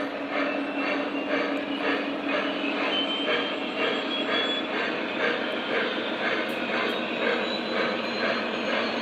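Lionel model train with a Conrail engine running on toy track indoors, a steady close rolling rumble with rhythmic clicking of wheels over rail joints, continuous throughout with no talk.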